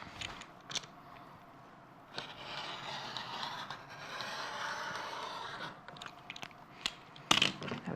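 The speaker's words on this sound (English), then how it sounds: "I'm just going to cut a 6-inch wide strip" A blade slices through four layers of quilting fabric to cut a 6-inch strip, a quiet crunching rasp with a few soft clicks and taps, faint and close.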